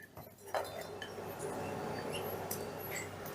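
Spices tipped into a mixing pot give a few light clinks and taps, a couple of sharp glassy ticks over a soft steady rustle, close and fairly quiet, with no talking.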